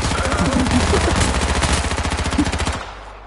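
A fast burst of rapid gunfire in a battle royale shooter plays loud and close, a steady stream of sharp shots for nearly three seconds before it cuts off.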